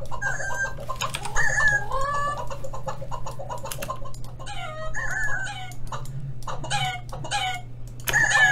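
Chicken clucking sample chopped in a beat, with repeated clucks and rooster-like calls in short bursts over a steady low hum.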